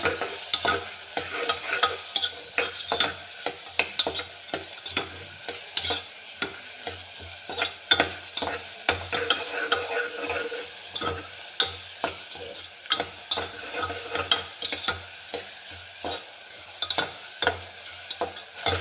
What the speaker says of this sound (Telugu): ఉల్లిపాయ ముక్కలు వేగాలి.